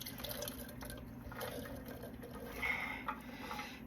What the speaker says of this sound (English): So I'm going to go ahead and add this to the water